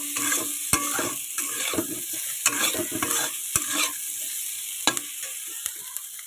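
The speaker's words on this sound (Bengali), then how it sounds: "এবার যে চিংড়ি মাছগুলো আমি ভেজে রেখে দিয়েছিলাম আমি সেটা এর মধ্যে দিয়ে দেবো" Fried prawns are tipped into sizzling halan cho greens and stirred in a hot pan, giving a steady close frying hiss broken by repeated sharp scrapes and knocks of the spatula, with no talking.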